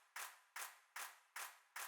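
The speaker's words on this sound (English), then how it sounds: "So we have the claps here that just kind of like drives the whole thing" Sampled claps in an electronic music remix, five sharp evenly spaced hits, each with a short reverberant tail, clean and isolated at a steady tempo.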